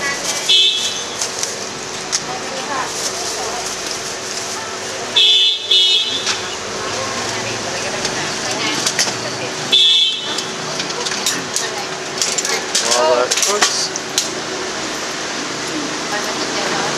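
Street traffic in Bangkok, Thailand, with taxis and cars passing and occasional horn toots over a constant roadway rumble, a few louder passing bursts, and people talking nearby.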